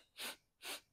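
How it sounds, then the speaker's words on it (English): Two sharp, forceful exhaled breaths, evenly spaced and close to the microphone, form the percussive breathing pattern of a Pilates mini hundred exercise, with no talking over them. "we're going into percussive breathing"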